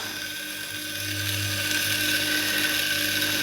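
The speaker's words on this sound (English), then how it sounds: "one of those bearings is a bit noisy" Rebuilt bench grinder running with one noisy bearing, a continuous whirring motor hum with a rough mechanical rattle and faint whine, steady and close, with no voices.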